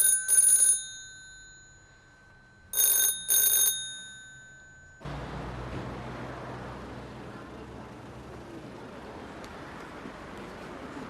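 Telephone ringing unanswered, two loud electronic double-rings with a pause between, after which the line cuts to a low hiss of background noise.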